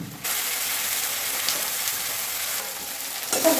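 Onion frying in a pan with paste added makes a loud, close, hissing sizzle that swells suddenly after a quiet start and holds steady, with some stirring texture and a brief flare near the end.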